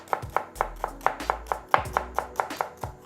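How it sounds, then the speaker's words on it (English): A knife chops shallots on a cutting board in quick, evenly spaced sharp taps, about a dozen clear strikes close up, each followed by a soft thud. "So first off, I'm going to chop up some shallots."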